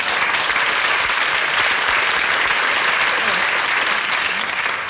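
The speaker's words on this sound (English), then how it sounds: "I like the way you applauded that joke" A television game show studio audience applauding a joke, with steady, dense clapping throughout, loud and close, with no other sounds over it.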